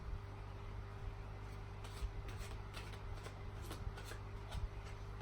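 Oracle cards shuffled by hand at a tarot-style reading, a soft, faint riffling in several short bursts over a low steady hum.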